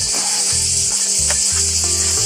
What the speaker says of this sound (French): Avec les cigales qui chantent.